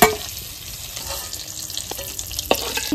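Paneer cubes frying in a pan with a steady, close sizzle of hot oil, punctuated by a few scraping clicks of a spatula turning the pieces.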